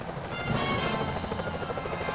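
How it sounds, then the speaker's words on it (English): A security helicopter in the game Sly Cooper: Thieves in Time flies close by, its rotor chopping steadily and loudly throughout. "Those security choppers are bad news."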